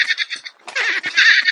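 Horse neighing in the horror game Granny Chapter 2, a loud, close whinny in two shrill, wavering bursts with a brief pause between them.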